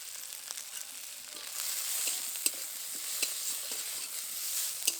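Whole cumin, coriander and melon seeds frying with onion, ginger, garlic and tomato in a pan, a soft hiss of frying with faint scraping stirs and a few sharp clicks, quiet and without speech.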